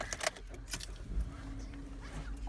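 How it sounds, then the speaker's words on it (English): Car keys jangle in a few quick metallic bursts inside a parked car as it is being started, followed by a low steady rumble of the engine coming to life, moderately close and with no talking. "let's go ahead and start this car"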